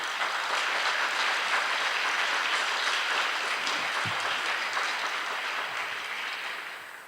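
An audience at the Toledo Museum of Art applauds the introduction of its curator of European art at a Frans Hals painting unveiling; dense, steady clapping from a large room sustains for several seconds before gradually tapering off.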